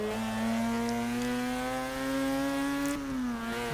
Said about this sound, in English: Being a rotor engine, it sounds practically like every other rotor engine